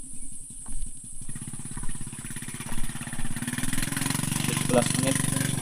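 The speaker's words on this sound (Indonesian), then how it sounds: "Ada motor warga ya yang akan berkebun." A villager's motorcycle runs on a hillside trail near the Legok Haji base camp on Mount Burangrang, its engine chugging in a steady rhythm that grows louder and closer toward the end.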